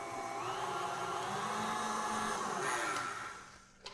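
Steady whirring of an electric mixer whipping meringue for a pavlova after cornstarch and white vinegar go in, holding an even drone before winding down at the end.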